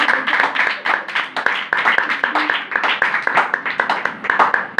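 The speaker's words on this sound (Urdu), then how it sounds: "سو یشوا بھائی کے لیے ایک بار زوردار تالیاں" Hearty clapping from a church congregation for a brother called up to preach, dense rhythmic hand claps filling the room, close and loud, with a few voices mixed in.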